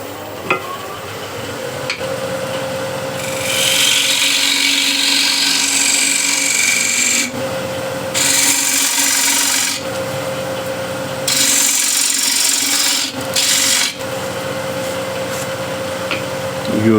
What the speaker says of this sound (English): Use the wing of the gouge to shear scrape